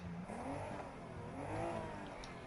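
A car exhaust bellows as the engine revs up and eases back in a couple of swells, a throaty sustained drone heard fairly close with no voices over it.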